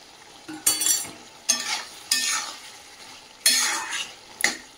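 Curry being stirred in a frying pan as cumin powder goes in: a few separate bursts of spoon scraping and sizzling, each swelling and fading, over a faint background hiss, close by with no talking.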